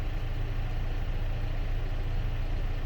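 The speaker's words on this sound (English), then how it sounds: "we have to shut the tractor off and turn it back on again to reload all the computers" Tractor engine running at a steady idle just after being restarted while raking hay, a continuous low rumble with no change in pitch or level, heard up close with no talk over it.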